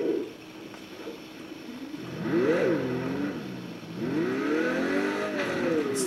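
A Pagani Zonda Roadster F in the racing game Test Drive Unlimited 2 revs hard, its engine note climbing, dipping through a gear change and rising again, loud and close.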